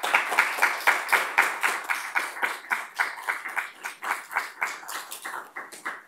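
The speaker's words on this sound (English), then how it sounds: "One more round of applause, please." An audience at a science award ceremony at AHAcon19 claps in a steady rhythmic beat, the hand claps crisp and close, repeating at an even pace throughout.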